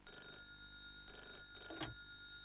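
A telephone rings with a bright electronic trilling in repeated bursts, each about a second long, fairly quiet over a steady hum, with no speech.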